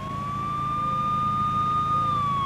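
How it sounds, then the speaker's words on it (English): A police car siren in a video game sounds as a steady, sustained electronic tone over a low engine-like hum, continuous and fairly loud. "A police car."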